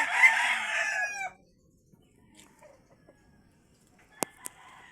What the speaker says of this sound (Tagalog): Bisitahin natin mga manok nila.